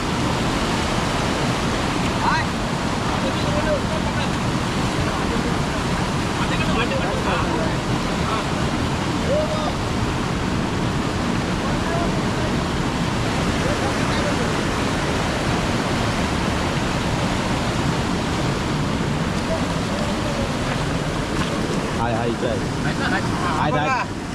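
Continuous rushing river water pours steadily and loudly throughout in Konkan, a dense broadband hiss with faint voices occasionally audible beneath it.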